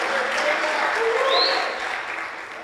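Church congregation in Manaus claps together in a warm, sustained round of applause, a dense even patter filling the hall for a few seconds before easing off.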